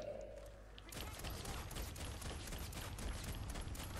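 Rapid pistol gunfire crackles in the Fortnite Save the World video game, a dense burst of loud shots starting after a brief quiet moment and continuing steadily to the end.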